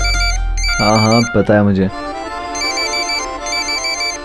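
A phone ringtone plays as a repeating electronic melody, starting before and continuing after a short spoken reply in Hindi, fairly loud and close in a domestic scene.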